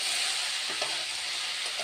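Watermelon rinds stir-frying in a hot pan, a steady dense sizzle with a couple of soft scraping stirs partway through.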